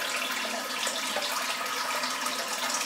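Water runs steadily from a tap as a shaving razor is rinsed beneath it, a continuous soft hiss and splash with no talking.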